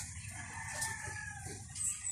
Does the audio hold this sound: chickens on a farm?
yes